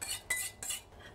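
A spoon scrapes and clinks against a saucepan while a preparation is stirred over high heat, producing three quick metallic scraping strokes, close and fairly faint.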